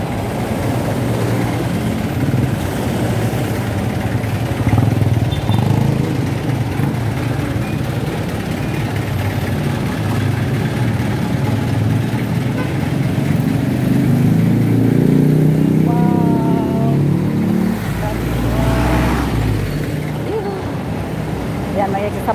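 Dense road traffic fills the scene with a continuous rumble of engines and passing vehicles up close, plus a few horn-like tones and a deeper engine surge near the end; voices mingle in the background.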